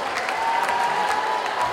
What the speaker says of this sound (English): Big round of applause for all of our performers today.